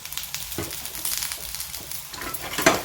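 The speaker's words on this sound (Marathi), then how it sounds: "आणि मीडियम आचेवर आपण ह्या परतून घेत आहोत" Vegetables sautéing in a spoonful of oil on medium heat, a steady soft sizzle with occasional scraping stirs and a louder clatter near the end, close by with no talking.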